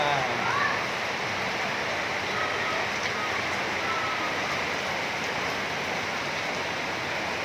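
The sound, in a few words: heavy rain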